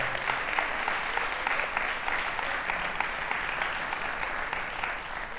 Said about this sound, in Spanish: Un aplauso al Señor Jesucristo, por favor.